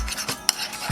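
A spoon briefly stirring chopped ingredients with mayo in a bowl for a breakfast sandwich, soft wet scraping strokes with one sharp click of metal against the dish.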